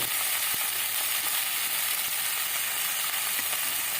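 Tangra fish frying with salt in a pan while being stirred, a steady close sizzle throughout with occasional light scrapes and clicks of the spatula, no voices.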